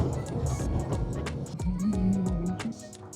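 A car rolls over a road of mismatched concrete plates, its tires thumping rhythmically in a rapid series of bumps over a steady low road rumble from inside the cabin.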